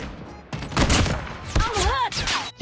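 MK2 rifle gunfire in the Call of Duty Mobile video game, a few short bursts of shots in quick succession, mixed with game effects and other sounds.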